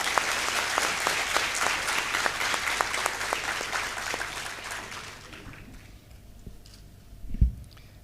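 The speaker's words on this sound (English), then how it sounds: "Welcome him with a big round of applause." Audience at Andhra University applauding to welcome a visiting Army lieutenant general, a dense round of clapping that fades out over several seconds, followed by a brief bump near the end.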